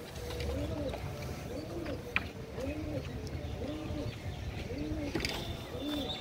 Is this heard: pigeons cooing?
yes